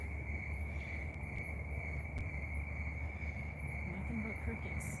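Crickets chirp at night in a cemetery, a constant high-pitched trill steady and moderately near against a low background rumble, with no talking.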